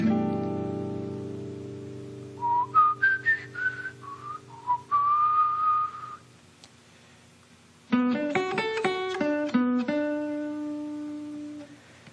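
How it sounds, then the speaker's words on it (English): A person whistles a melody in short clear phrases, pausing midway, then continues with a run of quick notes before holding a final tone. "I'm going to externalize it by whistling it."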